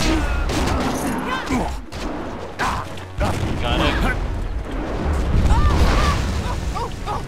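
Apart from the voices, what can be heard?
cannon firing in the video game Jade Empire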